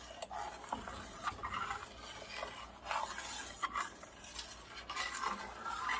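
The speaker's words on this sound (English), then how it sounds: "It really gets on the bottom of the pot really good." A flat utensil stirs goat milk in a pot on the stove, scraping the bottom with soft repeated strokes and faint metallic clinks, close and quiet with no speech.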